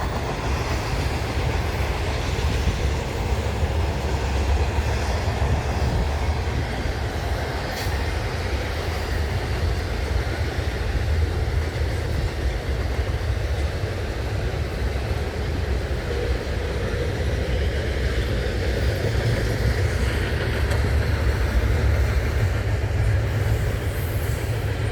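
An eastbound Norfolk Southern freight train rolls past at Leipsic Reservoir, Ohio, with a steady rumble and rhythmic clickety-clack of wheels over rail joints, loud and continuous throughout, with no talking.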